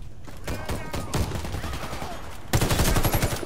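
A grey-rarity assault rifle in Warface fires in repeated rapid bursts, loud and close, ending in a heavier sustained volley.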